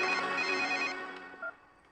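A phone rings with a bright, repeating electronic ringtone in a Dhoom 2 movie scene, loud and steady at first and then fading away over two seconds, with no talking.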